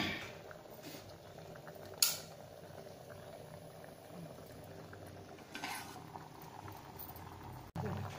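Garlic tempering for kardi ghotun bhaji sizzles faintly in hot oil with a soft, continuous hiss, broken by a sharp metallic clink early on and a few light rattles.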